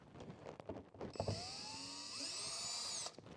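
A small tool removes the little screws holding a Lowrance fish finder mount on a kayak, producing a close, high whirring whine that rises and sustains for a couple of seconds after a few light clicks.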